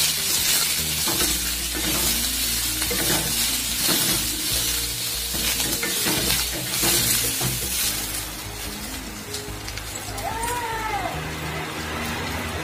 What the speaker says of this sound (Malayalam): എണ്ണയിലേക്ക് ഉള്ളി, ചെറിയ ഉള്ളിയാണ്, ചെറിയ ഉള്ളി ചെറുതായി അരിഞ്ഞ് വെച്ച ചെറിയ ഉള്ളി ഇട്ട് കൊടുക്കാം